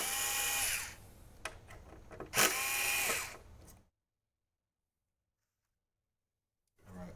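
Power screwdriver removing two screws from a Thunderbolt card, giving two short close whirring bursts with a tonal whine, followed by silence and then a faint return of sound at the end.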